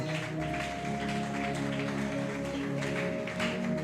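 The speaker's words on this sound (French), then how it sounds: "Applaudis mon Dieu pour parole ça." A church congregation claps together in steady, continuous applause, with sustained musical tones holding underneath throughout.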